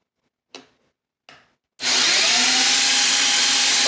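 Two short knocks are followed by the wheeled robot's 18-volt motors starting up and running at a loud, steady, gritty whir that holds to the end.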